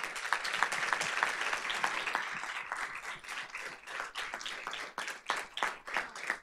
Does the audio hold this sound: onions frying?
no